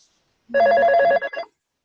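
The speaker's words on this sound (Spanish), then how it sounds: "Por ahí le está sonando el teléfono." A telephone rings during an online medical conference on pulmonary hypertension: one loud, close burst of trilling electronic ringing, followed by silence.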